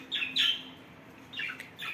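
A budgerigar squawks in shrill, raspy bursts, two close together then a couple more, nearby against a low steady hum.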